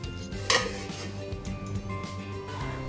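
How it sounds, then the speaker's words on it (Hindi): A spoon stirs dry fruits into a wheat-flour batter in a bowl, with steady soft scraping and a sharp clink against the bowl near the start, under continuous kitchen background hum and no speech. "अब हम ड्राई फ्रूट्स को बैटर में अच्छे से मिक्स कर देंगे"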